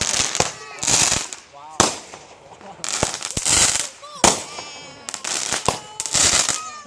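A Fourth of July fireworks finale of ball rockets sends out repeated bursts of crackling explosions in quick clusters, loud and fairly close, with short gaps between volleys and voices in the background.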